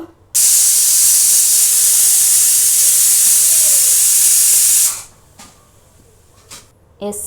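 A pressure cooker making sambar releases a loud, steady high-pitched hiss of escaping steam for about four and a half seconds, then cuts off, leaving a few faint knocks.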